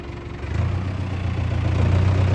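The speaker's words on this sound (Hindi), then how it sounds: "ट्रैक्टर पर बैस गेलिए आब ट्रैक्टरे से जेबे।" A tractor engine running steadily at a brick-making site, a low throbbing idle that grows slightly louder and stays continuous and close throughout, with no voices.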